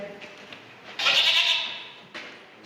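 A voice imitates a goat's bleat in a Ukrainian puppet show of the folk tale about the goat, a loud, quavering nasal bleat for about a second, followed by a shorter one near the end.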